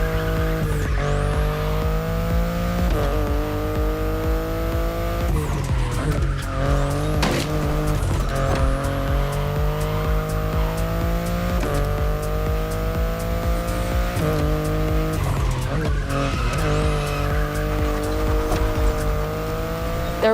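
A BMW i8 hybrid sports car driven in The Crew Motorfest racing game, its engine note rising and falling through gear shifts with tire squeals, loud and continuous with no talk.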